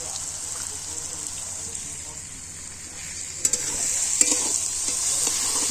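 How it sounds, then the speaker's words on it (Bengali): Mashed boiled potatoes being stirred with tomatoes in a pan, a steady frying hiss with occasional scraping and tapping of a spoon. "নেড়ে চেড়ে নেব আলুগুলোকেও টমেটোর সাথে ভালো করে মিশতে দেব"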